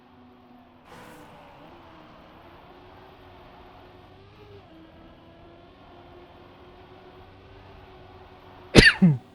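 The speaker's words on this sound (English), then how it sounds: "I sneezed." A single sharp sneeze bursts out near the end, loud and close, following a long stretch of quiet engine-like game hum.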